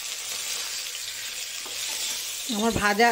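Fish fries in mustard oil with a steady sizzle hissing close by, and near the end a short voice sound rises over it.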